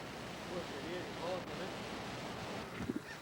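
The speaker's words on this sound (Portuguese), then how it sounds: "o barulho da cachoeira é massa" A waterfall at Cascalheira on the Rio Alagado in Gama, Brazil, gives off a steady, fairly quiet broadband rush of falling water, with faint voice-like fragments and a brief knock near the end.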